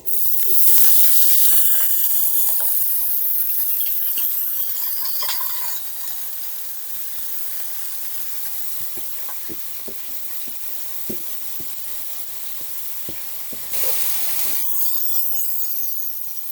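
Mung dal dropped into hot oil in a pan crackles in a loud, hissing sizzle that eases into a softer fry with scattered stirring ticks, then flares up again briefly near the end.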